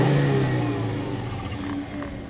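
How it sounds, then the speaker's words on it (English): Steady five-cylinder engine of a 2013 Volvo C30 hatchback idling and running, a continuous mid-pitched hum with a slight rise early then settling, heard close with no talk. "I really do like the sound of 5 cylinders"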